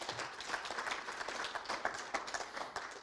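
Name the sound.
audience applause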